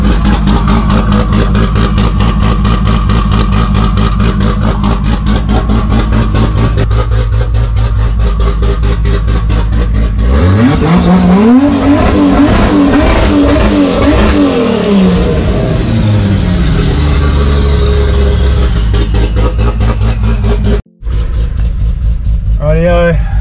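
Barra-powered Nissan Patrol engine running with no exhaust fitted, a loud raw thumping idle that rises into hard revving and falls back, close up and continuous, with a brief cutout near the end.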